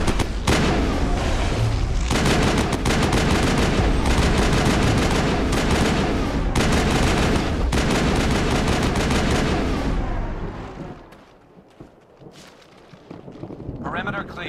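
Gunfire rattles in a video game battle against the Geth: dense bursts of automatic fire and booming impacts pound loudly and continuously, with voices mixed in, then the shooting fades to quieter scattered sounds.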